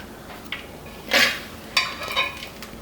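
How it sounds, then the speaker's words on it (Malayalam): Spoon stirring roasted sesame seeds, cashews and flattened rice in a pan for aval vilayichathu, a few close scraping clinks and dry rustling sweeps, fairly quiet with no speech. "ഇനി എല്ലാം ചേർത്ത് നമുക്കൊന്നുകൂടെ നന്നായിട്ടൊന്ന് ഇളക്കി കൊടുക്കാം."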